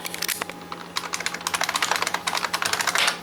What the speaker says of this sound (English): Go ahead and type in my password here.